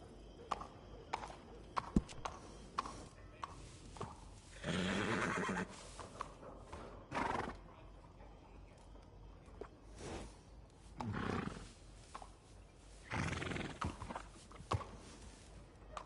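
Horse neighing in a PS4 video game, several loud whinnies and snorts in separate bursts over a quiet background with faint hoof clip-clops, no talking.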